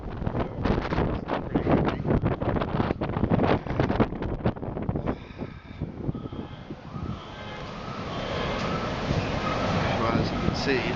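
Strong wind buffets an outdoor microphone on the morning after Hurricane Irma, a loud, steady gusting roar that continues throughout with no talk.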